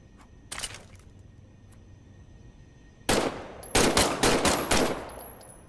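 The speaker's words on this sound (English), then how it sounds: "why don't you test fire your weapon?" Automatic weapon bursts from a test-fire in the WWII VR game Medal of Honor: Above and Beyond: a faint short burst early on, a quiet pause, then a louder, close run of rapid shots.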